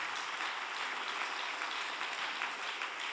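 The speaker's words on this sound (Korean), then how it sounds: "박수 한번 부탁드리겠습니다" Audience applause at a Korean religious retreat gathering, a continuous, even wash of clapping from a large crowd heard at a moderate distance, without pause throughout.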